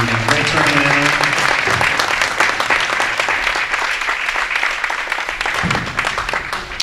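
Audience applause at a senior women's bowling stepladder final, a dense, steady clapping from a crowd filling the whole stretch, loud and sustained without pause.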